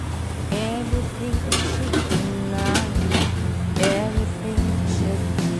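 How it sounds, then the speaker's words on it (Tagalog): Lomi noodle soup boils and sizzles in a pot while a utensil stirs and scrapes against metal, with soft clinks and a muffled voice faintly in the background. "Ayan, kasi luto yung kumukulo"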